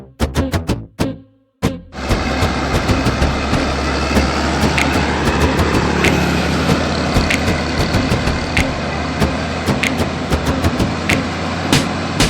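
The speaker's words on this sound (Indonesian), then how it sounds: "motor grader" A motor grader for road construction runs with a loud, steady diesel drone after a few short starting bursts, with repeated sharp clanks over the engine.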